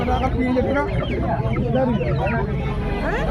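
Chickens at a village market haat in Kolkata cluck continuously in a dense, close cluster, with busy market chatter mixed in.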